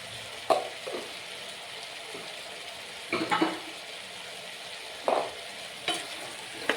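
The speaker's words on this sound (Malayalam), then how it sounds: "ഇതെല്ലാം കൂടെ നമുക്കൊന്ന് ഇളക്കി കൊടുക്കും" Spiced potato stew with garam masala being stirred in a pan, a few scraping strokes of a spoon breaking through a low steady sizzle, with quiet pauses between them.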